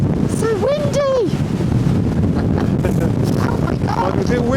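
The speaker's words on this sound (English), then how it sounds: "Oh my gosh, it's so windy!" Strong wind roars steadily across the microphone on an exposed hilltop during a hike to Mam Tor in the Hope Valley, a loud, constant buffeting rumble with a person talking over it briefly near the start.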